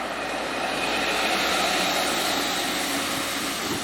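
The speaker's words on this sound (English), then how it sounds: "Every time I hear like a diesel engine" A diesel bus engine passes on a London street during a storm, a loud, steady broadband rumble that holds for the whole stretch with no talking over it.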